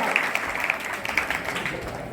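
A burst of steady applause from a group at a school quiz programme, dense clapping that holds at an even level throughout.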